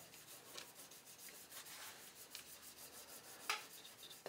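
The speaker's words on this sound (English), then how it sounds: "I just go over it, rubbing it in the pores" Oil rubbed by hand into a wooden tool handle, a soft, faint, rhythmic swishing friction, close up, with one brief sharper scrape.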